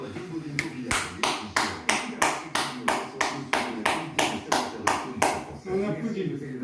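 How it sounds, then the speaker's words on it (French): Steady rhythmic hand clapping in honour of French livestock farmers, roughly fourteen even claps in a regular beat that stop near the end. "On applaudit nos éleveurs."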